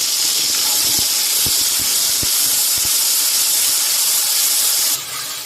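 Loud, steady hissing sizzle of a ginger, garlic, green chilli and onion spice paste frying in a hot pan, with a few soft knocks early on, easing slightly near the end.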